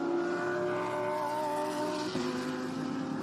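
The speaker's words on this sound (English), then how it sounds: "I think it was that car that just gone past now" A sports or GT race car on the Kyalami Grand Prix Circuit, its engine a steady tonal drone with a pitch shift as it passes and heads toward a braking point, moderately distant and alone.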